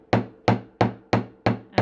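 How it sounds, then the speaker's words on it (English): Steel hammer striking wire on a metal bench block to flatten it for wirework, five sharp evenly spaced metallic taps about a third of a second apart, close and clear with nothing else audible. "we're just going to come in here with our hammer"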